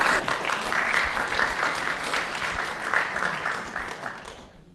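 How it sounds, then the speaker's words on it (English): A round of audience applause at a public talk on Tasmanian history fills the room with dense, sustained clapping that holds steady, then thins and fades away toward the end. "Judging from the round of applause, I think that comment is acceptable to everybody"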